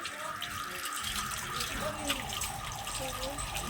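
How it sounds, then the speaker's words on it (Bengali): A steady rush of running tap water splashes over bitter gourd leaves being washed by hand, close and continuous, with faint background sounds mixed in. "কলে ধুয়ে নেবো ভালো করে"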